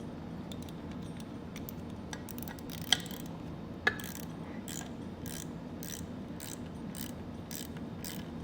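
A ratchet wrench torques down fasteners on a Pacbrake Alpha HD rear air bag suspension for a 2017 Chevrolet Silverado, giving a steady run of quick clicking ratchet strokes in short repeated bursts, with two sharper metallic knocks, close up and without talk.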